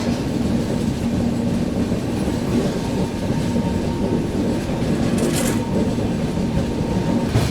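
The 22412 Arunachal AC Superfast runs on the rails in heavy rainfall, heard as a loud, continuous rumble with faint clickety-clack and a brief high squeal near the end.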